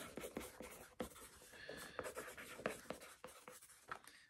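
A pen writes wire colours onto paper close up, quick irregular scratching strokes and taps over a few seconds, faint and with no talking.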